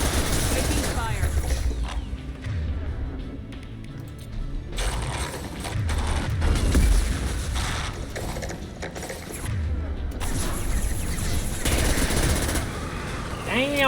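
Gunfire and mechanical clatter erupt in the video game Mass Effect 2, loud bursts and rattling mixed with game noise and a voice talking over it.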